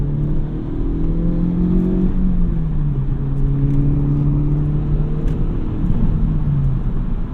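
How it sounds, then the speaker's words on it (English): A 2023 Honda Civic Type R engine revs loudly up close, its pitch rising and then dropping as the throttle eases, with a steady mechanical drone underneath. "how little rev hang there is"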